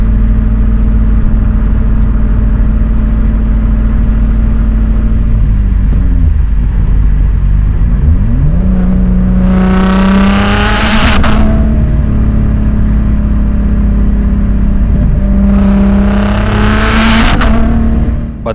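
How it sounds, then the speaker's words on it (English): A 750HP custom Audi S4 B5 on the Autobahn with boost spiking too high, a loud steady engine drone with two sharp surging bursts of rushing, hissing boost, close and without talk. "The boost was spiking way too high. It sounded insane, but it wasn't running right anymore."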